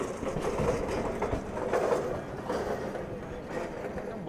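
Vistadome glass-coach train pulling out of Visakhapatnam station, heard as a dense, continuous rumble with faint rhythmic rail clatter, near and steady for a few seconds, with no voices.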